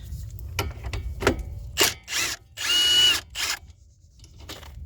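An impact-style power tool works a 12 mm bolt loose on a 2012-2017 Toyota Camry, firing in several short whirring bursts with gaps between, the longest a sustained zip near the middle.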